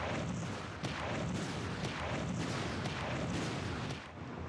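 Heavy cannon fire from a tank in the war shooter Iron Storm, a dense run of booming blasts with several sharp thumps over continuous battle noise, loud and close, with no talking.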